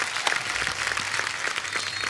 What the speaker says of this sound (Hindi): जोरदार तालियां दिव्या और दर्शन के लिए।